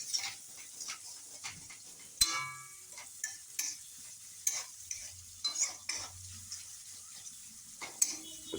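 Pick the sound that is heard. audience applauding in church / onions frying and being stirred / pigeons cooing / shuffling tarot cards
onions frying and being stirred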